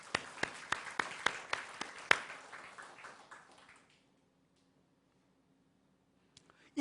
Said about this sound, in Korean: 그 하나님께 영광의 박수.